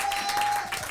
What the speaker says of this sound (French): Je vous demande d'applaudir la princesse Stéphanie.